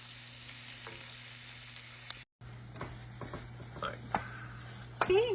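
Vegetables and other ingredients sizzle quietly in a skillet, a soft, continuous frying hiss with a few small clinks and stirring sounds scattered through it.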